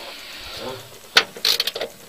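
Ratchet wrench loosening a 10 mm bolt on a Mahindra 1526 HST tractor top cover, a sharp knock followed by a short burst of quick clicks, close by, with faint voice-like sound early on.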